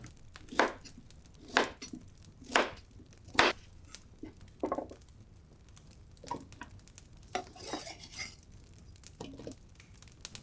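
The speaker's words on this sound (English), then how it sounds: "we slice some sweet potatoes in big chunks" Knife slicing sweet potatoes into big chunks on a board, about half a dozen distinct crisp chops spaced a second or so apart, then softer scattered cuts, close and alone without talk.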